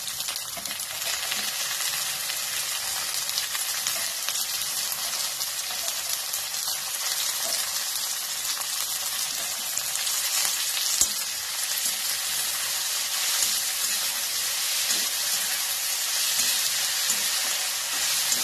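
Papdi beans and onion frying in a pan give a steady, bright sizzle throughout, with faint stirring clinks now and then, alone with no voices.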